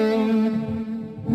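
An electric guitar rings out a sustained lead note held in a standard fretting position, with effects, echo and reverb shaping the tone, then fading slightly before a fresh attack at the end.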